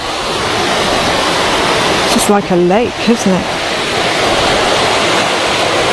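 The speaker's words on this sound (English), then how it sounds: "Rain on the river before it goes down the weir." Broad, steady hiss of rain falling on a river above a weir, with rushing water underneath and a brief spoken remark in the middle.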